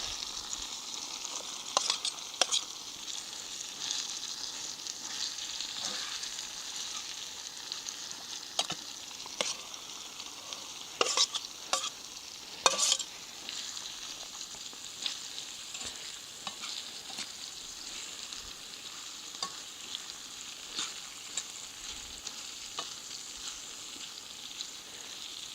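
Salt pork, onions and apples frying in a single pan over a camp dinner in the mountains, a steady soft sizzle broken by irregular scraping stirs, with a few louder clusters of scrapes partway through; no talking.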